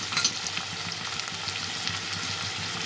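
Sliced onions with a pinch of salt fry in hot oil, giving a dense, steady sizzle close up with light stirring scrapes and no talking.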